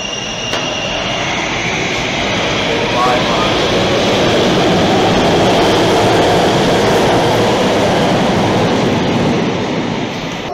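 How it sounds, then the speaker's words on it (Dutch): Metro train at an underground station, a steady loud broadband roar of rolling stock filling the space throughout, with faint voices underneath. "We're about to take a metro to the central."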